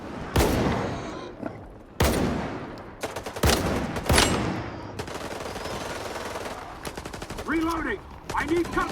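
Gunfire in the video game Stalker 2: sharp single shots and quick rapid bursts, loud and close, with gaps between volleys and a few voice-like calls near the end.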